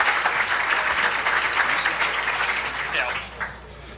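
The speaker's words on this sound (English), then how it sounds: "Round of applause, please." Crowd applause for two speakers at a public education event, dense steady clapping from many hands that fades out toward the end.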